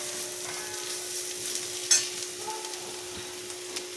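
Aubergine masala with roasted coconut and onion sautéing in a pan gives a soft, steady sizzle with an occasional scrape of a spoon stirring, fairly quiet and even.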